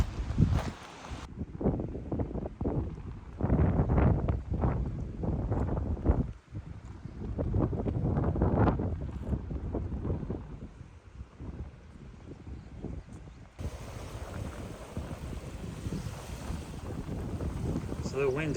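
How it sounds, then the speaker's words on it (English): Strong wind buffets the microphone in a steady, rumbling roar that rises and falls, with a person talking over it. "It's a little windy, but it feels pretty nice."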